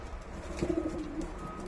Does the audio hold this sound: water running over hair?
no